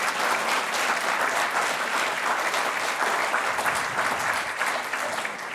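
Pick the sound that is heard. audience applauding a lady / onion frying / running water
audience applauding a lady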